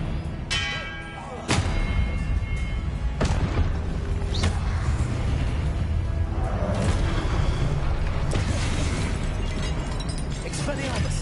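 Spell-casting effects from the Hogwarts Legacy video game: sustained magical whooshes and bursts with sharp booming onsets, a dense loud wash of combat sound throughout, layered with voices.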